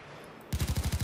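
Rapid automatic gunfire in the heist shooter Payday 2, a short burst of about six loud, evenly spaced shots that bursts in suddenly after a quiet moment.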